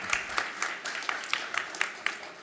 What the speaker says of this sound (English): If you could give these guys a round of applause